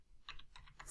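Keys clack on a computer keyboard while someone types VBA code into an Excel module. There are a few quick, soft keystrokes, faint and close, with no speech.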